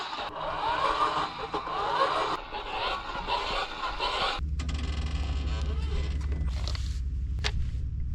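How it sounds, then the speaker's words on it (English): A camper being lowered with a manual hand-crank tool, giving a run of rhythmic metallic creaks and squeals up close that stops partway, leaving a low mechanical hum and a few faint clicks. "you're gonna have to hand crank it to get it down"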